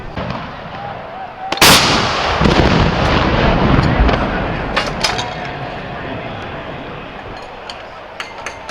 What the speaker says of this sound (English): Volley fire, volley fire!